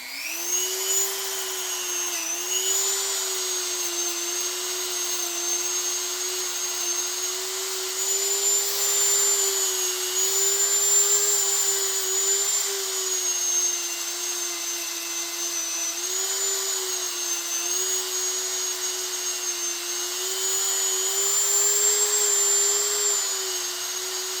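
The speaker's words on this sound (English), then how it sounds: "One of these little burr thingies that are like a sandpaper disc thing, kind of to clean it up a little bit underneath so it sits flatter." High-pitched rotary tool fitted with a sandpaper burr disc smoothing a part of a Belgian-made 12-gauge Eclipse Meteor double-barrel shotgun, a continuous whine that dips slightly in pitch whenever it bears on the metal.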